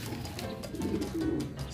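Racing pigeon arriving home at a loft in Samar, cooing in soft, low repeated coos over a steady background murmur, moderately close.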